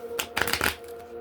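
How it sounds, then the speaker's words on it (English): Quick riffling shuffle of tarot cards, a few crisp bursts of papery flutter over about half a second, fairly close, then quiet room. "Oh, I usually pre-shuffle the cards."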